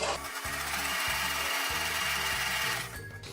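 A sewing machine stitches a flared skirt seam in a series of short whirring bursts, each run of needle hammering broken by brief pauses, close and steady, with no talking.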